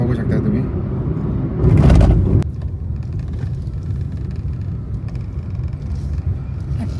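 A car moves from a smooth road onto a paved block road, with a steady low rumble throughout and a brief louder surge near the two-second mark.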